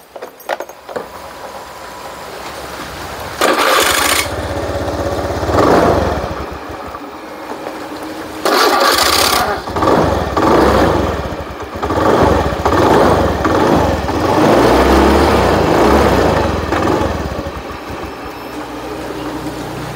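A Honda Beat FI scooter with heavy fuel consumption and hard starting in rain is cranked and started: bursts of engine noise that catch and fade, then an uneven, rising and falling idle with blips of revving, fairly close.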